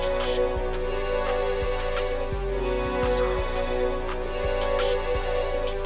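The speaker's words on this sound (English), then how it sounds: "I went to the strings folder and I selected the 24 bright legato strings." A bright legato strings patch from FL Studio's strings folder plays a sustained melody, layered over a steady trap-style glo beat with punchy low bass hits and crisp repeating hi-hats.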